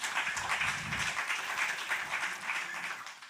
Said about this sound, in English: Give her a round of applause while she comes up.